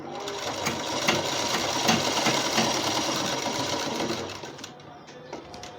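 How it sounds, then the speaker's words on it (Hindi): A sewing machine runs a long continuous stitch along fabric binding for a prayer dupatta, a loud steady whir close by that slows and stops near the end. "इस तरह से पूरी लंबाई में सिलाई लगा देंगे बंधन पे।"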